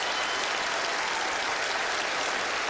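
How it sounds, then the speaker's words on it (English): Studio audience at a magic-show taping applauding a volunteer called up on stage, an even, continuous wash of clapping, fairly quiet and steady throughout. "Give him a big round of applause"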